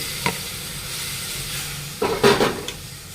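Spices frying with cooked sprouted moth beans for matki usal, a soft sizzle in the pan broken by a few brief stirring scrapes, close and fairly quiet.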